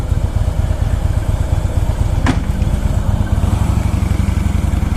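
A 2019 Harley-Davidson Street Glide Special motorcycle idles nearby with a steady, loud, lumpy engine rumble and a single brief clank partway through.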